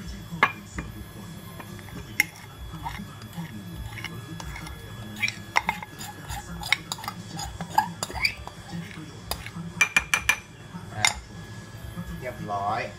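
Metal spatulas clink and tap sharply against a cold stone slab as banana is worked into ice cream, scattered irregular knocks over a low background hum with some quiet talk.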